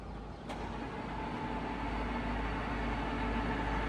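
The table of a TOS W100A horizontal boring machine rotates at rapid speed, producing a steady, moderately loud mechanical hum and rumble that builds slightly after a brief click near the start, with no voices.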